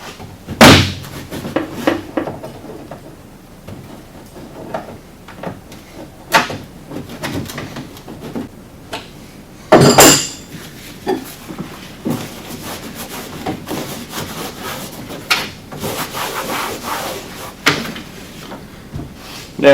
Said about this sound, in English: Now I install the push pins first because that's what lines it up.